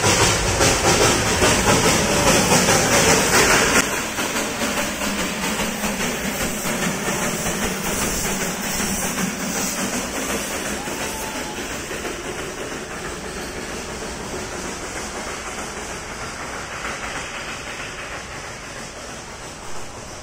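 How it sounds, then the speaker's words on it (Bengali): A Darjeeling toy train runs close by, a loud steady rumble and hiss with faint rail clatter that eases and gradually fades over the stretch. "এই টয় ট্রেন তোমাদেরকে আরেকবার দেখাবো।"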